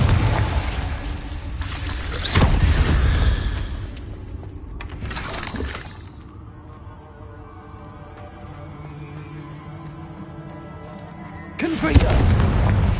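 Confringo fire spell blasts in Hogwarts Legacy go off as heavy booming bursts, one near the start and another around the middle, then a quieter stretch before a final loud blast near the end.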